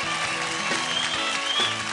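Audience applause for a band on the children's TV singing contest Saregamapa L'il Champs, a dense, steady wash of clapping that holds evenly for about two seconds.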